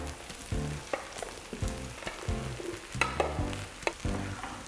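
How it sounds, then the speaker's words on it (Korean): Sliced eggplant stir-frying in oil with green onion over medium heat makes a close crackling sizzle, broken by rhythmic scraping stirs every half second or so, with no talking. "우리 썰어 놓은 가지를 넣고 이제 같이 볶아주실 겁니다"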